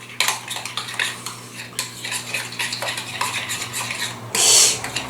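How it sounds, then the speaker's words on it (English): A utensil clinks and scrapes against a bowl while ingredients are mixed, with repeated quick taps and stirring scrapes. The sounds are close and fairly loud, with a brighter metallic clatter near the end. "we're just going to mix it up"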